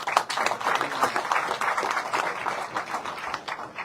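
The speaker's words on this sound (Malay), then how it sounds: "Tepukan Gemuruh" Thunderous applause from a political rally crowd in Johor, a dense continuous roar of many hands clapping that stays loud and steady throughout with no break.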